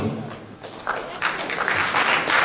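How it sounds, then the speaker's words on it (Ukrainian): Applause from the crowd at a boxing tournament in Lviv, building from a quieter start into steady clapping that grows fuller toward the end. "Давайте оплесками"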